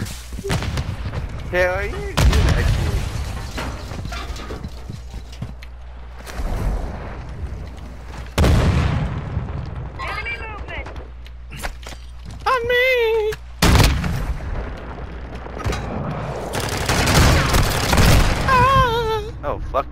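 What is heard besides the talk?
shotgun shots in a video game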